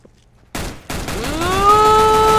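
Gunfire in a Counter-Strike match on the Mirage map: a sudden loud burst of shots at close range, followed by a rising, ringing tonal sweep that holds to the end.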